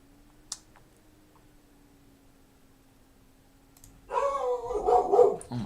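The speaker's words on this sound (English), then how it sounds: "Dog scared the shit out of me." A dog barks several times in a quick burst after a long quiet stretch with a faint steady hum and a single sharp click, the barks loud and close.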